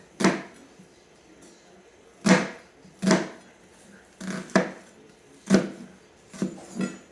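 Kitchen knife cutting lengthwise through an onion on a cutting board: seven sharp, close knocks spaced unevenly, some in quick pairs, with quiet pauses between them and no talking.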